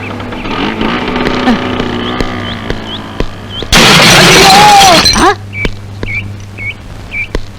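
Scooter engine sounds and a sudden loud crash with a burst of shattering and scraping noise, followed by a high-pitched tone and some chirping in the background.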